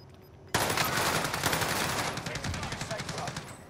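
Sudden loud automatic gunfire in a video game erupts after a quiet start, continuing in rapid, rattling bursts that gradually thin out toward the end.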